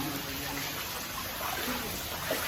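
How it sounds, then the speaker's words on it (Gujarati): Steady drizzling rain during flooding in Vadodara, a continuous soft hiss of fine drops and water with no break, moderately loud and unchanging throughout. "ઝરમર ચાલુ જ છે વરસાદ."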